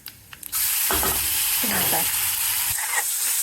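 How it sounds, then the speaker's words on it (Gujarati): Cumin seeds crackle and sizzle in hot oil, a steady frying hiss with a few sharper pops and a brief stirring scrape. "જીરું નાખીને કકડવા દેવાનું છે"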